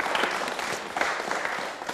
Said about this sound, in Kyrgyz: Калыкка кол чаап коелу анда, шаңдыраак